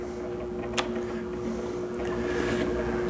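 A pottery wheel spins at about half speed while a ceramic bowl is being thrown, giving a steady low motor hum with a soft whirring drone and a faint tick partway through.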